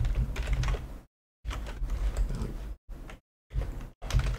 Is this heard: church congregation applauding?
no